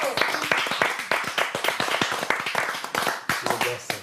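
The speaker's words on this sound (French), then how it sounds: "On peut l'applaudir ou pas?" Audience applause after a talk on making homeless people visible, a steady burst of many hands clapping close and loud throughout, with a few voices mixed in.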